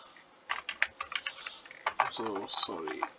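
Code being typed on a computer keyboard, quick irregular clusters of sharp key clicks under someone speaking.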